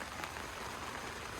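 Steady rain patters around a parked car fitted with a Bunker 270 awning on Yakima CoreBars, a dense even hiss of drops on the surfaces, soft and continuous.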